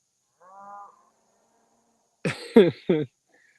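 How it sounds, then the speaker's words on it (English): Cattle moo near woods at a farm: one drawn-out low call far off, then a closer burst of three loud, throaty moos in quick succession, with no talk. "Cows are right down there."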